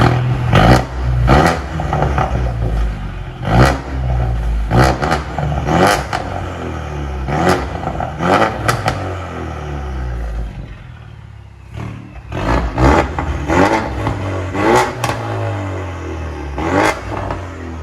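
A 2017 Ford Mustang EcoBoost turbo with straight-pipe dual exhaust revving up close, repeated sharp throttle blips and roaring bursts in quick succession, with a brief lull before another loud run of revs.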